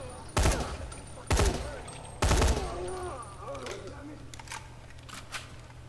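Military rifle gunfire in the zombie game Dying Light: three loud, sharp shots spaced about a second apart, each with a short ringing tail, followed by fainter clicks and softer distant reports.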